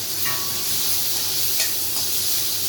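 Shallots and curry leaves sizzle in hot oil for a tomato chutney, a steady close frying hiss with faint stirring scrapes and no speech.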